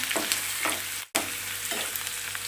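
Shallots sizzle steadily in hot oil for a jackfruit masala, with a constant close frying hiss, light stirring scrapes, and a brief near-silent break midway.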